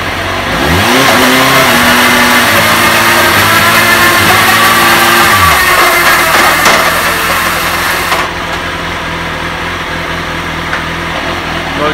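A Kawasaki race motorcycle fitted with a Healtech iQSE quickshifter accelerates loudly, its engine pitch rising and dropping with each quick gear change before settling into a steady, throaty run.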